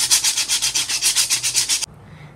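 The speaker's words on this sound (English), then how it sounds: "When I'm scrubbing this, you can see over here under it is becoming smooth." A coconut shell is scrubbed smooth in about fourteen quick, even rasping strokes, close and loud, before the rubbing stops abruptly.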